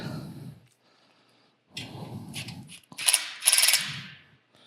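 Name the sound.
power tool tightening bolts on the lowest torque setting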